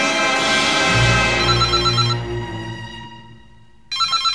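A telephone rings with a bright electronic ringtone, loud and sustained, fading briefly before the tone resumes sharply near the end; no one speaks.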